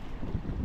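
A fishing boat's engine drones low and steady out at sea, mixed with heavy wind buffeting the microphone and rushing water, loud and continuous for a brief moment.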